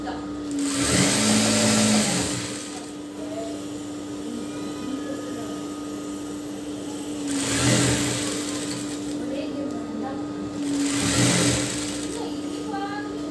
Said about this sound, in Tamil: அதை ஒரு 1/2 இன்ச்சு இருக்கிற மாதிரி ஃபுல்லாகவே ஸ்டிச் பண்ணிக்கோங்க.